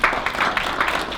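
Guests at a New Jersey family business awards evening clap for Burke Motor Group, a brief, close patter of scattered hands at moderate volume.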